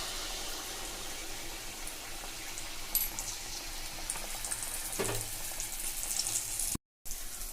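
Banana malpua batter fries in hot oil with a steady, close hiss and bubbling sizzle that runs unbroken, with a brief clatter partway through and a momentary cut near the end.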